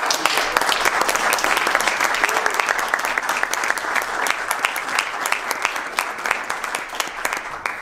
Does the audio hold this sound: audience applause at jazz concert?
yes